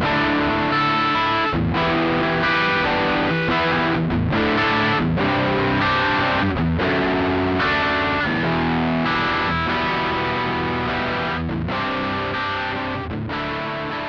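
Electric guitar played through a Laney Black Country Customs Monolith pedal on its soft compress distortion setting, giving a loud, sustained, thick distorted tone with repeated strummed chords and short gaps between phrases.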